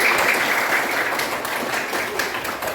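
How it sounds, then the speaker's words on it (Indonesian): A group of participants in a teachers' coaching session claps together in a steady, dense burst of applause, close and fairly loud throughout. "Tepuk tangan dulu."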